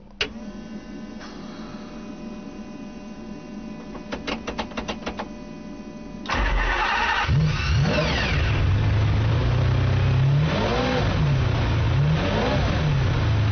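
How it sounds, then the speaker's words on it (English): A master switch clicks and fuel pumps whir and tick, then a stripped-out race-spec car engine, a Ferrari Enzo or McLaren F1, fires up loudly and revs hard several times, rising and falling close by. "Full race-spec master switch. Ignition. Fuel pumps on."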